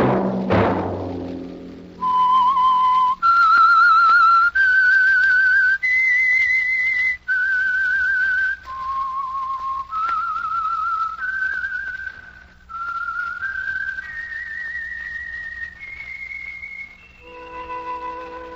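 A lone person whistles the theme of The Whistler radio drama, a clear melodic tune of sustained, gliding notes with short breaks between phrases, close and prominent after a brief opening knock.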